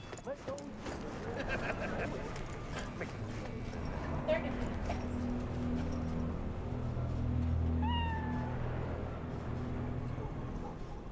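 A cat meows several times while being petted in the video game Cyberpunk 2077, with the meows set against the game's music and ambient sound and a voice talking in the background.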